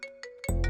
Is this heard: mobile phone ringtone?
yes